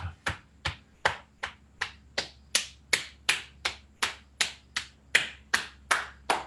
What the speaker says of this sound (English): All right, clapping the hands.